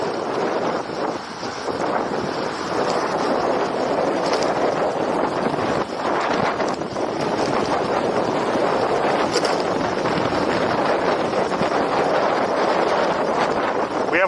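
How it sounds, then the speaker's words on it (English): Steady wind buffets the microphone while riding an electric bike over a long stretch, a constant close rumbling roar with slight surges and no clear pauses. "We have wind in our face"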